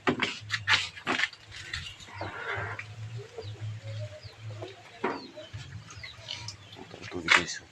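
Pigs grunt at feeding time on a farm, irregular low snorts and squeals near and far, with other farm animals and occasional voices in the background.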